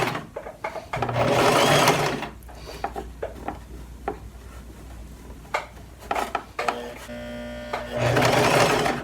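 Sewing machine stitching gathered fabric for a ruched dress, two clear runs of fast, steady mechanical chatter at the start and end, with quieter clicks and handling noises between them.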